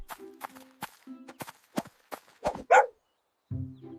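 A dog barks in an animal-sounds lesson for children: a few short, sharp barks spaced among brief voiced bursts, close and clear, with a silent gap near the end before a final sound.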